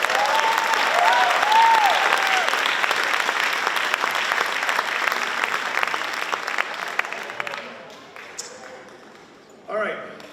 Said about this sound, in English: How about another round of applause for the alumni choir?